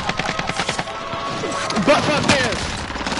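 Uzi fire in a video game crackles in quick rapid bursts, loud and close, while a person talks over the shooting partway through.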